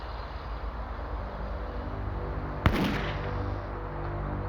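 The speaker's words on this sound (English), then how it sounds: "a gunshot shattered the morning silence" A single sharp gunshot cracks out once midway through a quiet early-morning residential street lined with porches in 1988, standing alone above a steady low ambient hum.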